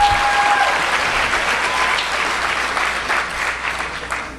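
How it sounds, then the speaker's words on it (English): An audience applauds graduates at a ceremony, a loud, dense burst of clapping from a large crowd that holds steady and then thins slightly toward the end, with no talk over it. "Let's give a round of applause for the graduates."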